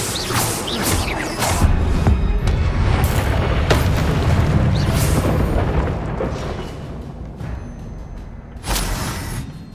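Confringo spell explosions in Hogwarts Legacy: a heavy booming, crackling blast that rolls on for several seconds, fades, then flares again in a sharp burst near the end.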